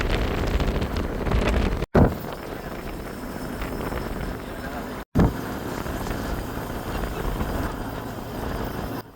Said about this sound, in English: It was very windy, but it was still great.